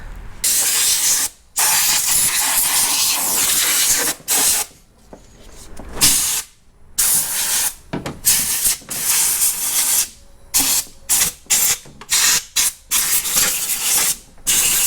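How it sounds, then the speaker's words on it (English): Compressed air blasts in bursts around the engine bay of a 2011 Toyota Sienna during a 160k service, a loud broadband hiss repeatedly starting and stopping with short gaps, close and alone. "I would like to blow some air in here to clean the area"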